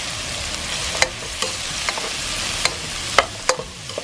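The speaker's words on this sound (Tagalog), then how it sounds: "habang ginigisa na po natin" Onions and tomatoes sautéing in a pan, a close, steady sizzle broken by repeated sharp scrapes and taps of a spatula stirring, no talking.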